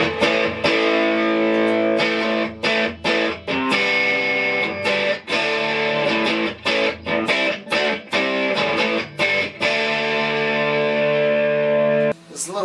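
An electric guitar played through an overdrive effect unit rings out in sustained, gritty chords and notes, loud and close, with brief choppy breaks between strums and no talking.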